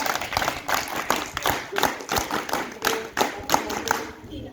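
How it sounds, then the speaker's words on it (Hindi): An audience gives loud applause for a child dressed as a Black Commando: uneven bursts of hand claps and taps with a strong rhythmic pulse, alongside some crowd noise over about four and a half seconds. "सबसे पहले जोरदार ताली इनकी"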